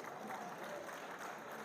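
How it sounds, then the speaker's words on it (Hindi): Audience applause at a college mushaira, a steady wash of clapping heard fairly faintly throughout with no pauses. "तालियां बजाएं, आप बहुत खूबसूरत लोग हैं।"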